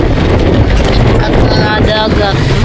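Strong wind at the sea buffeting the microphone in a loud, continuous roar, with voices partly heard beneath it.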